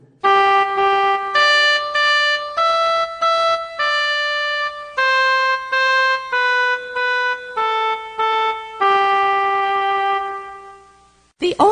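An oboe plays a slow melody alone, a string of about ten distinct reedy notes at moderate loudness, each held briefly with short breaks between them.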